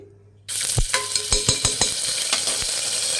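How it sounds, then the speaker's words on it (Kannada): A spoonful of ginger garlic paste drops into hot oil in a cooker for mutton boti gojju. After a brief quiet it bursts into a loud, steady sizzle, with several sharp stirring scrapes close by. "ಎಣ್ಣೆ ಬಿಸಿಯಾಗಿದೆ. 1 ಟೇಬಲ್ ಸ್ಪೂನ್ ಶುಂಠಿ ಬೆಳ್ಳುಳ್ಳಿ ಪೇಸ್ಟ್ ಹಾಕ್ಕೊಳ್ಳಿ."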